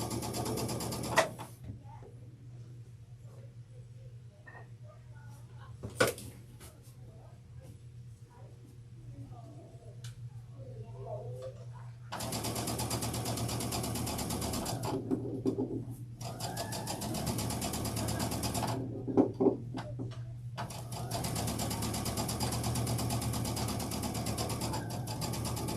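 A sewing machine stitches a Thanksgiving table runner in steady mechanical whirring bursts, stopping and restarting in stretches, while someone talks over and between the runs.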